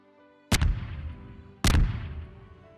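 Two fireworks in the video game Garry's Mod, each a sharp, loud blast with a fading, crackling tail, about a second apart with no talking.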